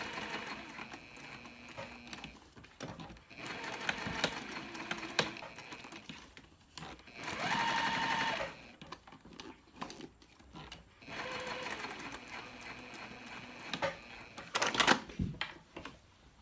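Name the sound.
sewing machine stitching a zipper pouch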